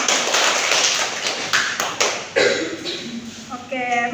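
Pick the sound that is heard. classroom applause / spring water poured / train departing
classroom applause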